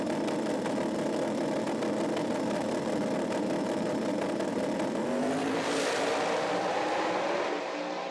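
A drag racing car launches at a street nationals event at a drag strip, its loud engine roaring steadily with tire spin and revving over the whole stretch, rising and fading near the end.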